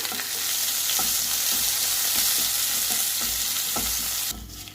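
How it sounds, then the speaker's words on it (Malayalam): Crushed shallots, garlic and curry leaves sizzle steadily in a hot pan, loud and close, with a spatula scraping and stirring at a regular pace before the sound drops away at the end. "ഇത് നന്നായിട്ട് വഴറ്റിയെടുക്കാം"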